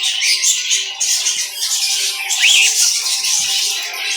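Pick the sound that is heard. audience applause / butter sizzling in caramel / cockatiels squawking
cockatiels squawking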